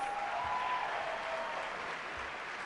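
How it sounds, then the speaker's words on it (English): A high school graduation audience gives the staff a round of applause, a steady, moderately distant wash of clapping from a large crowd. "Let's give our staff another round of applause"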